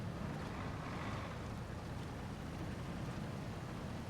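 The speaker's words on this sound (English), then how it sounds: "we're going to dip down into the water." A truck in the video game Expeditions drives down into river water, giving a steady, dense rush of churning water and engine rumble that holds at an even level throughout with no pauses.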